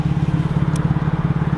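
A van's exhaust gives a loud, low, rhythmic pulsing rumble, steady and close, with no talking.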